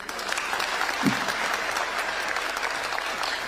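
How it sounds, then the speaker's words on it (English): Dense, continuous applause from a large crowd at a state event honouring President Ruto, steady and fairly loud throughout without pauses. "A hearty round of applause for Reverend."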